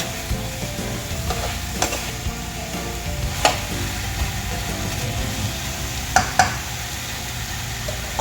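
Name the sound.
sautéing tomato in a pan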